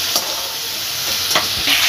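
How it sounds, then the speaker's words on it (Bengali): Shrimp frying in hot oil in a home kitchen, a steady broadband sizzle running the whole time, with a few brief stirring scrapes rising above it, close and moderately loud, no voices. "এবার চিংড়ি মাছগুলো তুলে নেব। এর থেকে বেশি ভাজবার দরকার নেই"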